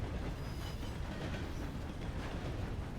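A train rolls along steadily in a video game, with a continuous rumble and faint rhythmic wheel clatter, fairly quiet and with no talking.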